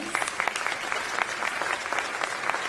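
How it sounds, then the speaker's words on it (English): A city State of the City gathering claps for a panel, steady applause with distinct individual claps standing out, heard at a modest distance and fairly soft. "if you would give our panelists a round of applause"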